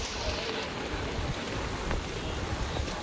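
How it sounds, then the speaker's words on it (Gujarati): Steady heavy rain falls during village flooding, a dense constant wash of drops at moderate level, with a hint of faint background voices. "હજી વરસાદ રહેવાનું નામ નથી લેતો વરસાદ ચાલુ છે"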